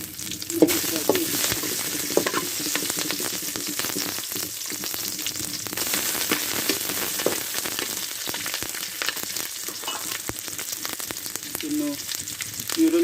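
Onion and chilli frying with dry fish in a pan, a dense crackling sizzle with frequent sharp pops and stirring scrapes, steady and close throughout.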